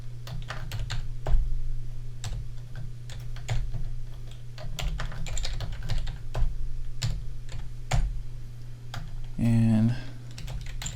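Fingers tap a password on a computer keyboard in a steady run of crisp, close keystrokes over a low steady hum, with a brief voice near the end.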